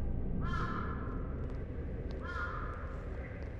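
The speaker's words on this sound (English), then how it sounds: "Sounds like a crow." Crow in the horror video game The Inn-Sanity giving two separate harsh caws, faint and distant over a low rumbling ambient drone.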